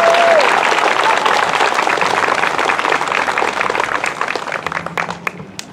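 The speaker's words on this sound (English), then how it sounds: "could we give another round of applause to Jacques for all he's done for us?" An audience at an elementary school legacy celebration ceremony gives a round of applause, dense steady clapping that slowly thins toward the end.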